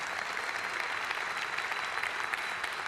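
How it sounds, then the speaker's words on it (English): Audience at the CoinGeek London 2020 conference applauds in a steady, even wash of clapping, moderately distant and sustained throughout, with no talk over it. "Another applause, please."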